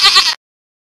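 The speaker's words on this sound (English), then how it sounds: "Goat." A goat lets out a single short, loud bleat up close, then silence.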